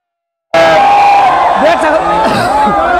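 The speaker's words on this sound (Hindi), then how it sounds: "बहुत ही जोरों शोर से यहाँ पे भीड़ लगी हुई है" A large crowd gathers noisily for a public appearance by Bhojpuri film star Ravi Kishan in Samastipur, Bihar. The dense roar of voices, shouts and whoops starts abruptly and stays loud and steady throughout.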